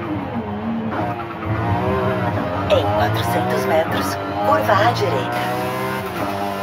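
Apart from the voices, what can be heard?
car engine in Forza Horizon 5 racing video game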